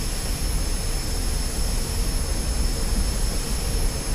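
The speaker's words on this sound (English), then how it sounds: "It's a really powerful bird this is, so we probably don't need full power to take off" Steady, loud roar of an MB-339 jet engine during a takeoff run in the DCS World flight simulator, a continuous broadband rush with a high whine on top, unbroken and without talk.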